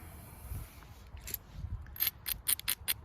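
Mojave Desert flint being ground at its edge by a flint knapper: quiet scraping that turns into a quick run of sharp, rhythmic gritty rasps near the end, close and without speech.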